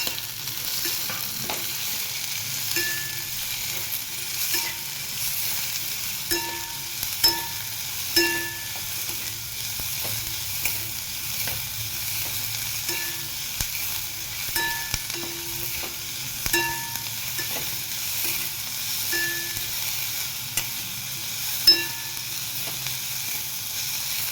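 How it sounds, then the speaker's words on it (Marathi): Onion fries in a pan with roasted chilli and garlic for a drumstick-leaf sabzi, a steady quiet sizzle with periodic spatula scrapes and light metallic taps across a long stretch, close and without speech. "याच्यात कांदा टाकून घेऊया कांदा पण लाल होईल भाजून घ्यायचा"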